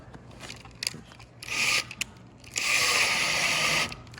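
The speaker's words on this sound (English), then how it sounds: "I'm going to get the other screw in." Screw being driven into a hinge on a historic wooden casement sash, heard as two bursts of grinding, ratcheting turns, a short one then a longer steady run, with small clicks and handling noises between them.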